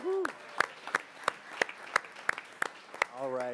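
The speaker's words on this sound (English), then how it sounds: "I think they deserve another big round of applause" A small audience at a school board meeting claps in a crisp, evenly spaced rhythm of sharp hand claps, with voices cheering briefly at the start and end.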